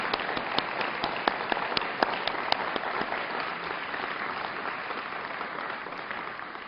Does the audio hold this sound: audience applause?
yes